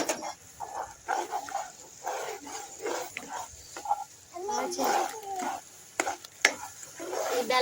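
Lumps of jaggery melting in a pan for coconut laddus are stirred with a spoon, giving irregular scraping strokes and a soft sizzle close by, while people talk over it.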